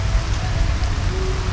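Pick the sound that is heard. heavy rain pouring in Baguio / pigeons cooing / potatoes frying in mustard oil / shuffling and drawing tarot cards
heavy rain pouring in Baguio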